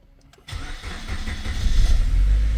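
A Suzuki Grand Vitara engine cranks and catches, then settles into a loud, close, steady idle with a deepening low rumble.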